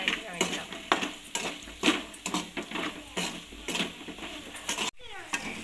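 Potatoes sautéing in a pan with leftover rice stirred through them, a steady close sizzle broken by repeated spatula scrapes and stirring knocks against the metal.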